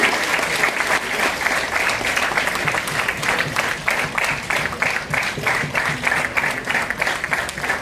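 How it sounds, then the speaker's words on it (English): An audience claps at a lamp-lighting ceremony, a sustained round of applause with a distinct rhythmic pulse of many hands, steady and moderately loud from start to finish. "Round of applause, guys."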